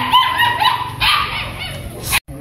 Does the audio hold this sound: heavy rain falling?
no